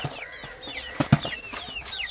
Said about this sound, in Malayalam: ഇതാണ് നല്ല കരിം കോഴിക്കുഞ്ഞുങ്ങളുണ്ട് എല്ലാം നമ്മുടെ വീട്ടിൽ തന്നെ നല്ല അടിപൊളി കരിം കോഴി കുഞ്ഞുങ്ങൾ പടയും പൂവനും എല്ലാം ഉണ്ട്